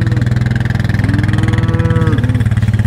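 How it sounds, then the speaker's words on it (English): An ATV four-wheeler's engine runs steadily and close by while it pulls a hay bale unroller across a pasture, a continuous droning hum with slight pitch shifts and no talk. "You can see that four-wheeler, it's not having any trouble at all pulling that bale."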